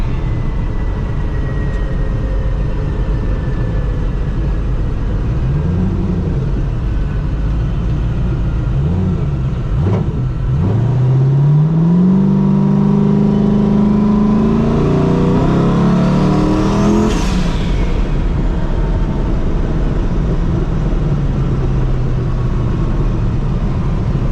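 A turbocharged LS-powered race car drives on a public street, its engine loud and close. It revs up through several rising pulls with shifts between them, then climbs to a sharp high-pitched surge before settling back.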